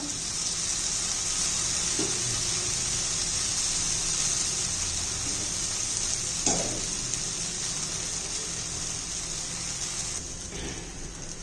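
Bajra (pearl millet) dosa frying in oil on a pan, giving a steady, close hiss of sizzling with a few faint scrapes and clinks, and no talking.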